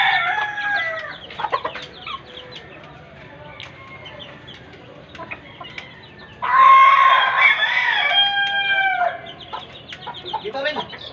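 Gamefowl on a farm cluck and crow near the microphone, with several short calls and one loud, drawn-out crow in the middle amid other bird and yard noise.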